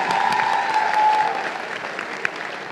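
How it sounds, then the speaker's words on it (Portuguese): A crowd applauding at a public gathering with President Lula and young people in Heliópolis, São Paulo, a dense steady burst of clapping that tapers slightly toward the end. "Salva de palmas para eles."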